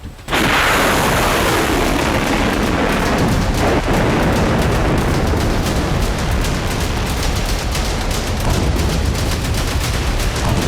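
A sudden loud blast at a missile launcher opens into a long, rumbling roar of repeated booms and crackling bursts, heavy and continuous throughout.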